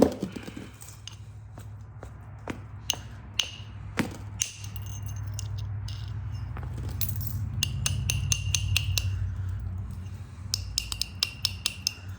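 Coastal plains chert is flintknapped, giving sharp clicking strikes and ticks of flakes coming off, irregular and close, with runs of quick taps and pauses over a low steady background hum.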